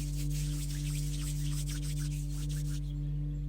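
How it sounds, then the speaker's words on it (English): Two hands rub briskly together in a steady, close, dry swishing rhythm over a constant low electrical hum, with no one speaking, fading out toward the end. "Bring them together and rub them briskly."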